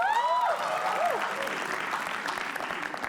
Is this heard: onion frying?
no